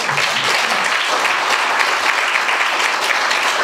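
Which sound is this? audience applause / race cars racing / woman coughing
audience applause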